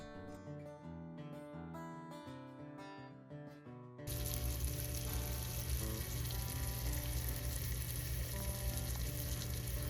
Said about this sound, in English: The goal is to brown both sides of the steaks.